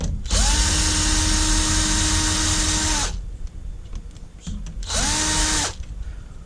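A power drill whines steadily for about three seconds, then again for a shorter burst, while backing screws out of an LED backlight panel on a Pro-Face display; it is close and loud, with quiet handling between runs.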